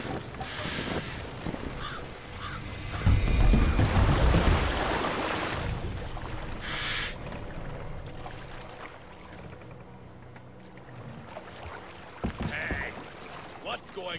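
A ship under sail at sea in Assassin's Creed Valhalla, with wash and surf swelling loudly early on and then settling into a quieter lapping bed, while sheep-like bleats, crow caws and occasional talking drift over it.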